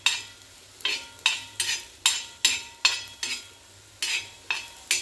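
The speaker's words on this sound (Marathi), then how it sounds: "छान भाजून घेऊया।" Grated coconut is dry roasted with coriander seeds and a clove in a pan, stirred with about a dozen distinct scraping strokes at a steady pace, close and clear with no voices.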